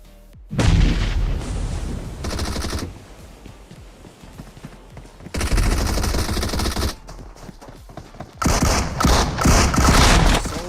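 Rapid bursts of DBS shotgun fire in PUBG Mobile during an esports match, loud blasts in several clustered volleys separated by quieter stretches of game ambience.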